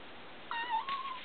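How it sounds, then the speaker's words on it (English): A cat gives a short meow, then a second rising meow right after, fairly close against a quiet background. "it doesn't matter how much you meow at it"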